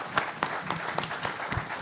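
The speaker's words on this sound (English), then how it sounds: "Everyone, a round of applause for our panel." A small audience applauds a panel at a development industry forum in Surrey, with moderate, steady clapping that is fairly quiet and distant.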